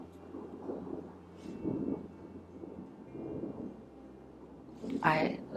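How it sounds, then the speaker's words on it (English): Low rolling thunder rumbles on and off through a summer storm, broad and moderately loud, with a sharper burst near the end. "I love the sound of thunder."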